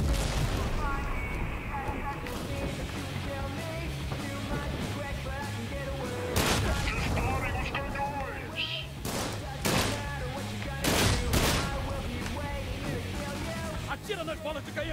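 Bursts of Sunset Overdrive game gunfire and heavy booms crackle among music and battle noise, with a voice talking over the action.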